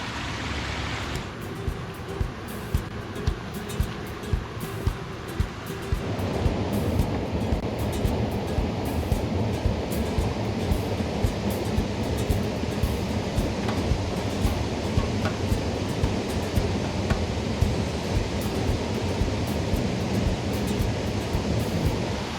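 A forest waterfall roars in a loud, unbroken wash of broadband noise, close and steady, swelling fuller after a few seconds and then holding for the rest of the stretch, with no voices.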